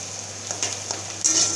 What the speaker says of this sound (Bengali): এই দেখো পেঁয়াজগুলো হালকা হালকা করে লাল লাল করে ভাজা হয়ে গেছে, আর একটু ভাজতে হবে।